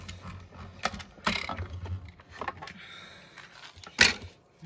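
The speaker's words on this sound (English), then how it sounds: "we're gonna die cut out our circle" A die cutting machine cuts out a paper circle for a lip balm holder craft, giving a run of close mechanical clicks, ratcheting and rolling sounds, with a sharper clack near the end.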